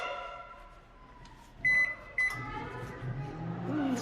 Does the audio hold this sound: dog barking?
no